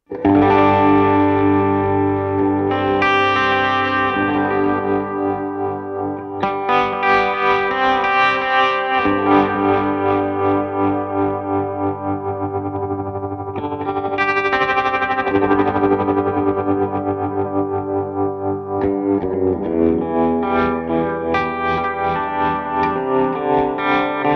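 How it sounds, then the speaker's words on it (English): Distorted electric guitar chords pulse with a ramping tremolo effect from a Line 6 HX One pedal, the throbbing speed rising and falling, played alone for a long stretch. "listening to the ramping trem I've dialed in"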